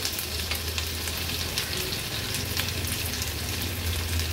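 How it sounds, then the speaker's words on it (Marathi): Ginger-garlic crush hits hot oil for a tempering in a spicy Agri-Koli chicken recipe, giving a steady, close, even sizzle and crackle that holds for the whole stretch with no voices. "आता 1 टेबलस्पून एवढं आलं लसूण क्रश घेतलं आहे, ते फोडणीला घालते।"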